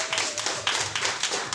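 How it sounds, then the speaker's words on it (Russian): Audience applause during a party game at a newlyweds' evening: dense, steady clapping from many hands, fairly close, lasting throughout without a break. "поэтому вновь аплодисменты"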